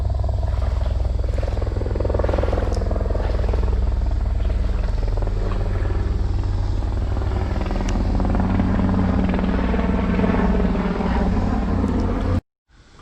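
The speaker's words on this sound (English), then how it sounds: "I hear the helicopter again." A helicopter flying overhead, heard from inside a tunnel: a steady rotor thrum drones continuously, loud and close, with a low pulsing chop throughout before cutting off abruptly near the end.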